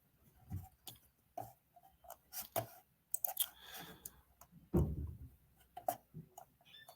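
Sharp mouse clicks on a computer during an interactive writing webinar, sounding in an irregular run of close, crisp taps with no talking.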